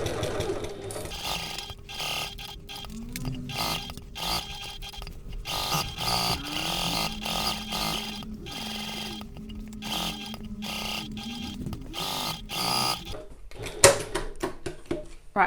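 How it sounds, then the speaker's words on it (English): A sewing machine stitches a quarter-inch seam around all four edges of foam-backed fabric for a satchel, its motor running in steady bursts with short pauses between runs, close and fairly loud. "I'm going to go around all of the sides of this. So I'm sewing at a 1/4 inch or 6 mil from the edge."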